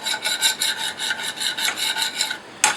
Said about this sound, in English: Now scrape it. Scrape it. Get all those brown bits off.